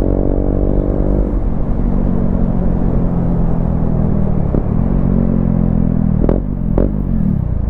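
Motorcycle fitted with a valvetronic exhaust, running loud and steady at close range with a deep throbbing note, then two sharp rev blips near the end; no voices.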